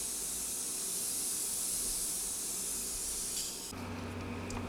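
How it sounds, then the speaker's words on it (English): A steady, close hiss of tint sprayed through a CO2 tank onto a 1934 Martin F7 guitar runs for several seconds, then cuts off abruptly, leaving a low background hum. "I spray it through a CO2 tank, believe it or not"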